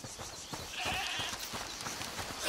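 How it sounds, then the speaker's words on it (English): In the video game A Plague Tale: Requiem, a goat bleats faintly, wavering cries that sit within a soft, continuous game ambience, with no clear speech over them. "Listen, is that the goat you talked about?"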